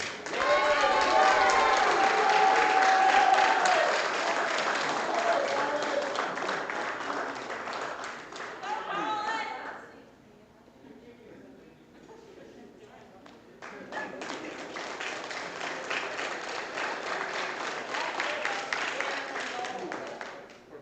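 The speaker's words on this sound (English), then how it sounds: "Let's get a big round of applause for all of our athletes." Applause from a crowd for Special Olympics powerlifting athletes at the Pan American Powerlifting Championships, loud sustained clapping that dips briefly midway, then swells again.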